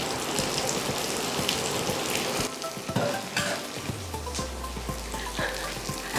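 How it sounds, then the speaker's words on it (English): Sliced onion and ginger fry in hot sesame oil for kimchi fried rice. A loud, steady sizzle crackles close up, with light stirring taps and a low hum entering partway through, and no talking. "once the sesame oil is sort of heated up, we're gonna add in the onion and the ginger and garlic"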